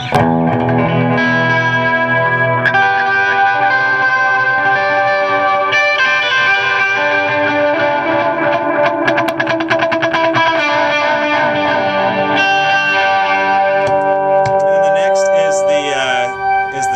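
Sustained electric guitar chords played through an Electro-Harmonix Memory Man analog delay pedal ring out with layered repeating echoes and warbling modulation, loud and continuous, notes smearing into each other.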